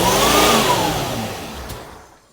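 A C4 Corvette engine with its throttle held slightly open, loud and close, revving up briefly before the pitch falls and the sound trails off toward silence.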